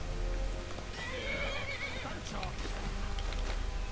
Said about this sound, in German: Mein blödes Pferd.